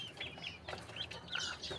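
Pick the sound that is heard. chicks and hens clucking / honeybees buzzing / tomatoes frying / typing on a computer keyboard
chicks and hens clucking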